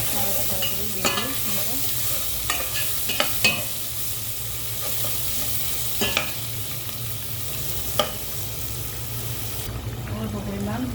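Bay leaves, cinnamon and cardamom fry in hot oil with a constant sizzle, broken by repeated scraping knocks of a spoon stirring the pan; brief soft voice traces under the cooking noise.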